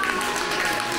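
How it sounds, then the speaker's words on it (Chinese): A brief burst of applause from a group at an outdoor winter game on a ski trip, a dense, steady clapping sound lasting about a second. "掌声"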